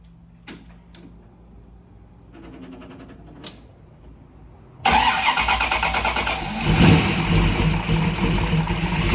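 A few clicks and mechanical clunks, then a 1965 Ford Mustang's engine cranks and catches, settling into a loud, steady idle up close.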